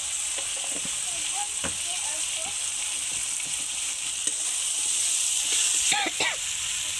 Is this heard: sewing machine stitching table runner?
no